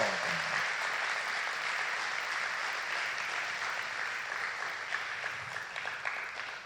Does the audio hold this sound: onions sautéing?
no